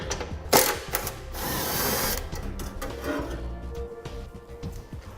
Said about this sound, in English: we'll need to remove this rock guard that's underneath here